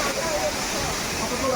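A waterfall pours with a constant rushing wash of falling water, loud and close, broadband and unbroken.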